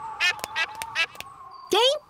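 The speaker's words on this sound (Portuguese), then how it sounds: "A senhora Pata colocou os ovos no nosso telhado. E agora os patinhos estão nascendo." Cartoon ducklings quacking as they hatch from eggs on a rooftop in a Peppa Pig episode, several short nasal quacks in a row, close and fairly loud, with a brief gap before a final burst.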